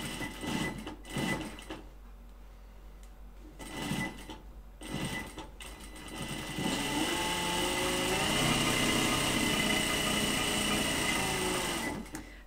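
Sewing machine stitching bias binding onto a fabric mask: short bursts of needle chatter at first, then a long, steady, fast-running mechanical whir close by, with no talking.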